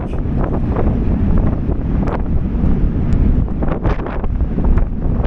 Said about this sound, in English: I thought it was a wind blowing through the bridge.